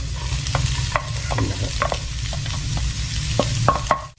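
Whole spices, star anise and cinnamon, stir-fried in oil, with a low continuous sizzle and a series of quick metallic spatula scrapes and taps against the pan, near and without speech.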